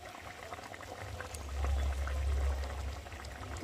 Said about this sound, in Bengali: চল একটু ফুটিয়ে নিই।